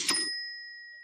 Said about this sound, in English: I'm gonna ring the bells.